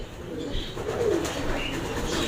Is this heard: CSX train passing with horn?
no